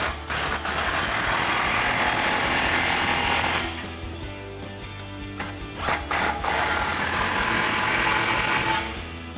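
A ratchet tightens the Y-pipe clamps of a Magnaflow Street Series dual exhaust on a Silverado 1500. It makes loud, rapid mechanical rattling bursts, broken by short pauses and a few clanks.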